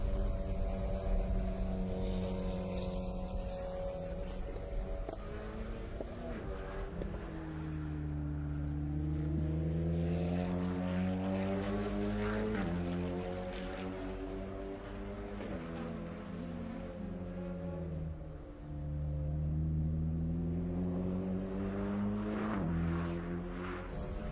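WTCR touring race car onboard at the Nurburgring in free practice, engine droning loud and steady with rising and falling pitch sweeps through the gear changes, no voices over it.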